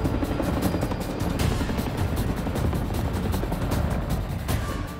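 Helicopter flying low over shallow water and flood zones around a lake, treating them for mosquitoes; a continuous close, loud rotor chop and turbine roar with steady rhythmic beats.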